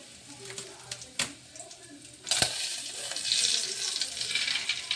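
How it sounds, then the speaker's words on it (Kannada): Mustard seeds and cumin drop into hot oil, first a few sharp clicks and taps, then a rising crackling sizzle that continues steadily close by. "ಈಗ ಒಗ್ಗರಣೆ ಹಾಕ್ತೀನಿ ರೀ ಸಾಸಿವೆ ಜೀರಿಗೆ ಹಾಕ್ತೀನಿ ರೀ"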